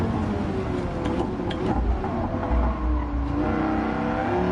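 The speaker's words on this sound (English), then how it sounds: "Listen to that beautiful V10 as it pops and gurgles." A V10 race car engine in Gran Turismo 7 runs steadily and loudly throughout, its tone shifting as it pops and gurgles on and off the throttle, with no talking.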